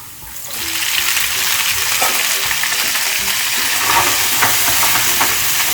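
Morning glory greens go into a hot pan with garlic and oil for stir-frying, producing a loud close sizzle that swells at the start and crackles on steadily with stirring.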